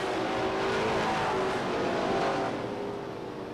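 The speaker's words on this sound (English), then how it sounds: "We have a spin off the top of turn number four." ACT Pro Stock Tour race cars at Beech Ridge Motor Speedway roar around the oval in 1993, a loud, dense engine drone that swells and then eases slightly as the pack passes, with no talking.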